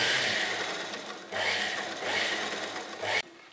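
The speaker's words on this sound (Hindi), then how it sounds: "अब हम इनके ऊपर एक सिलाई लगा देंगे फिनिशिंग के पर्पज से" A sewing machine runs a finishing seam on a side-slit Anarkali kurti, humming and whirring in three steady bursts with brief slowdowns between them, close and alone before stopping abruptly.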